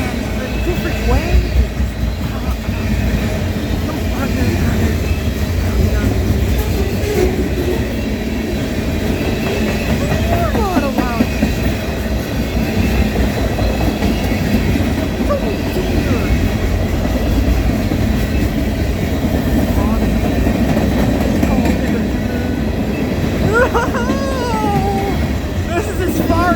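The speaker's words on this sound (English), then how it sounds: "Locomotives." Freight train locomotives passing close by, a loud continuous rumble of wheels and engines with rhythmic clatter and occasional squeals, with people talking over it.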